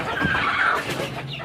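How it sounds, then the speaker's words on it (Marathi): Two broody hens sit in a makeshift nesting setup and give a single drawn-out, wavering call, moderately close and alone, with no voices. "हे 2 कोंबड्या खुडूक बसलेले आहे"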